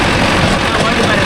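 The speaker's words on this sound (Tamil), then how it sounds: "இன்ஜின் இப்போ கத்துது." A Mahindra Arjun Novo 605 DI tractor with freshly cleaned mufflers, working a 42-blade Gomathi rotavator, gives a loud, close, steady engine roar with rough low rumble throughout.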